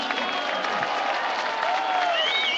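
A crowd at a political rally in Milan applauds steadily, a continuous wash of clapping with a few voices and whistles mixed in.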